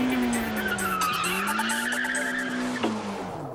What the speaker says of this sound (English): we can now drift around the cone using the handbrake entry technique